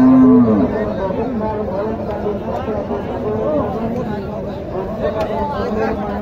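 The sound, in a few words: cattle at a cow market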